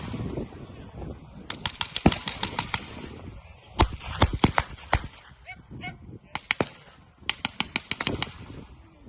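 Gunfire at a historical battle reenactment of Soviet troops in a counter-attack: rapid volleys of sharp rifle and machine-gun shots in bursts, crackling over a steady outdoor din, some loud and near, others more distant.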